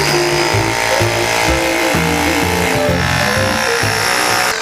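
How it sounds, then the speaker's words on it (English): A loud, steady power tool chipping a concrete floor grinds and rattles continuously, with rough mechanical chatter and shifting pitch throughout, no voices. "chip away more at the floor. With power tools."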